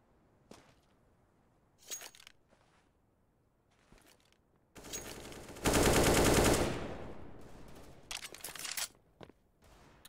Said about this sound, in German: Kleiner Spray durch die Door, Lelle ein bisschen angeschossen